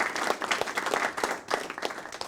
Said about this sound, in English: I'll give you the clap.